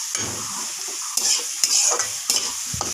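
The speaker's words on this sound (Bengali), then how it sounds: "লাল লাল করে ভাজা হয়ে গেছে" Onions and tomatoes fry in hot oil in a home kitchen pan, a steady close sizzle broken by repeated scraping stirs, with no talking.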